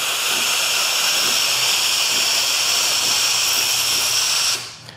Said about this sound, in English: I'm just gonna hit the preheat. And it expels some of what was in there. And you see we got our steam going.